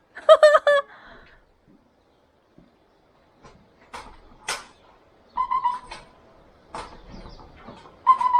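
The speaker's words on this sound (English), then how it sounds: "What's that? Is that it's a bird!" A bird calls in short, separated bursts near a large deck on a farm in central Portugal, loud at the start and then recurring in brief chirps amid quiet gaps.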